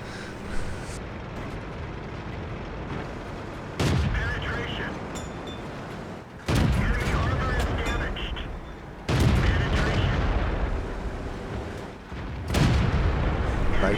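Tank cannon shots in a tank video game match on the Pilsen map, several loud booming blasts at irregular intervals, each with a long rumbling decay, heard alongside battle noise and faint talk.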